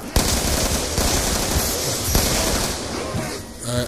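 Dense, continuous bursts of automatic gunfire from the video game Black Ops 2 Tranzit mode, loud and rattling throughout with a few sharper bangs.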